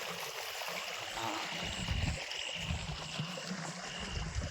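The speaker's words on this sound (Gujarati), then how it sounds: "આમ પાણી વયું આવે અને અહીંયા 2 ભેગી થાય મોટું પાણી" Water from two running pump motors flows into a field channel at night, a soft continuous gurgling and trickling stream heard close by at low volume.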